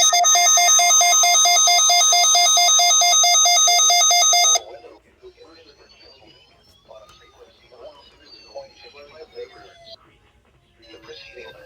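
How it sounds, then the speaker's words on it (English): A weather radio station's alarm device test tone sounds loud and steady as a sustained multi-pitch electronic signal for about four and a half seconds, then cuts off, leaving faint background sounds. "The preceding phone signals were a test of the alarm device at this weather radio station."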